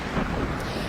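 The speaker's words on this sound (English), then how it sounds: "we've got thunder going on out here" Thunder rumbles through a storm with hail and strong wind, a loud, broad, continuous roar buffeting the microphone outdoors.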